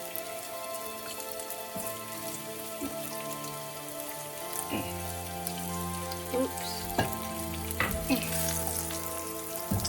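Salmon fillets sizzle and crackle in a hot pan, a steady hiss with bursts of spattering pops and occasional clinks of the pan, heard fairly close at moderate volume.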